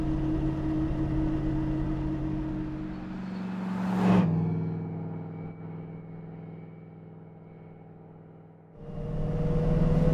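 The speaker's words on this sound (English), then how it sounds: "It's a little noisy from just, you know, kind of an old car noise" A 1971 Chevrolet Caprice running with a noisy transmission, giving a steady low mechanical drone and hum that swells briefly, settles lower, then rises again near the end.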